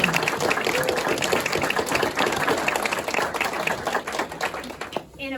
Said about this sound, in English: So let's give the team of Butcherbox a round of applause